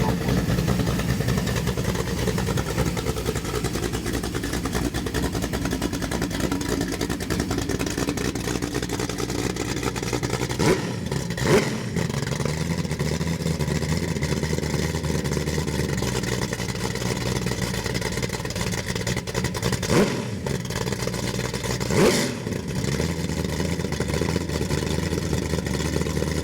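A fuel-injected Ford 347 cubic-inch stroker crate engine, 302-based and rated 425 horsepower, runs steadily on a test stand with a loud, continuous rumble and a few brief throttle blips partway through, without talk over it.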